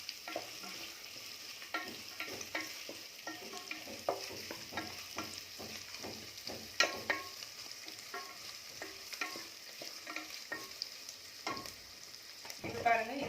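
Onion and green chilli sauté in a pan, a quiet ongoing sizzle punctuated by frequent irregular spatula scrapes and taps against the pan, close up and without speech.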